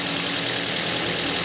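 A third-generation Toyota Vios engine with a misfire idles nearby, a loud continuous mechanical drone with a rough, uneven rumble underneath and no voices.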